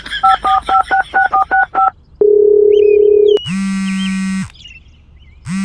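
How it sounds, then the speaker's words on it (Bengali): A landline telephone is dialed: a quick run of about ten DTMF key tones, then a steady dial tone, followed by higher chirping electronic ringback-like sounds and a buzzy tone, loud and close with no speech. "একবার নারদকেই ফোন করি"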